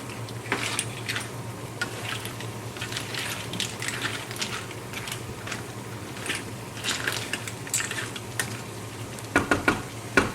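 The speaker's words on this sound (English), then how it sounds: "Mix it really good at this point." A spoon works through a seafood paella mixture in a pan, giving steady scraping, stirring and light sizzling throughout with occasional clinks against the pan, and sharper knocks near the end; no one speaks.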